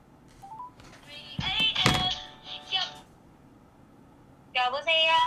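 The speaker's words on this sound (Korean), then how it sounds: "코코님, 전화해도 된대" A telephone being dialed to place a call gives short beeping tones near the start and a louder run of tonal beeps at the end, with a voice and other talk in between.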